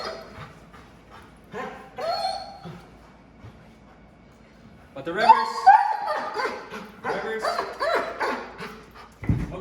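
Dog in a training demonstration for working backwards toward a decoy, whimpering, yipping and barking in short bursts, louder in the second half, while a trainer speaks alongside.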